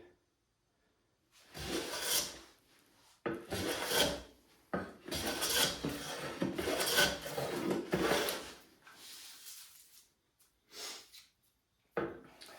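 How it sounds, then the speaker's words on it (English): A hand plane fitted with an indexable carbide blade shaving thin chips from hard wood, close rasping strokes repeated in bursts with short silent pauses between passes. "be able to make those thin, consistent chips in harder woods with a carbide blade"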